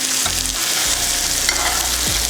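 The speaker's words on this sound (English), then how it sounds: "And just baste your steak." A steak basting in melted butter in a hot pan, with loud frying sizzle and spoon scrapes as the fat is swirled, no speech.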